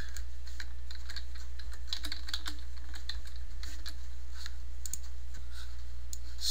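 Computer keyboard typing, a fast irregular run of light clicks and taps at close range over a low steady hum, while a logo with company and services text is entered; no talking.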